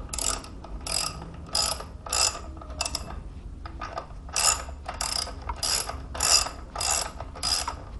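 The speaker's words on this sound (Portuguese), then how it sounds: "Aí sim, após, você pode vir com a chave e terminar aqui o aperto." A wrench ratchets bolts tight on the stator cover of a Harley-Davidson Softail. Repeated bursts of close, crisp clicking come in a steady rhythm of about a dozen strokes with brief gaps between them, and no one talks.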